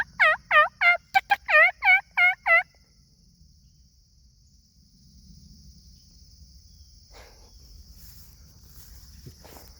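A wild turkey hen in the woods calls a quick series of about eight loud, sharp yelps. After a brief pause, faint insect buzz and light rustling carry on in the quiet forest.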